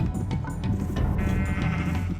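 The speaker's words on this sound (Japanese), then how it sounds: "さて方針が決まったからには羊をどんどん連れてくるだけです。" Sheep in the Minecraft video game bleat repeatedly at moderate volume, with a few overlapping calls and steady game background sound and no talking.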